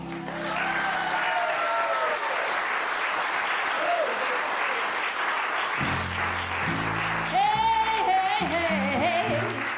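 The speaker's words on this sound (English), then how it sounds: "thank you for your generous applause" Concert audience applauding a jazz singer's outdoor performance, sustained dense clapping throughout with music tones and a voice rising over it.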